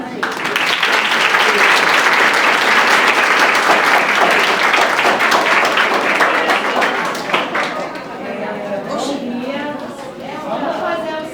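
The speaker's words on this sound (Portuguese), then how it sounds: "Uma salva de palmas." An audience at a heritage day celebration in a cultural center applauds a children's performance with loud, dense clapping and chatter. The clapping fades after several seconds, leaving voices and scattered claps.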